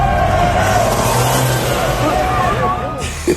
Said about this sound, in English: I was pushing my foot down, and you can hear those turbos before you can see me.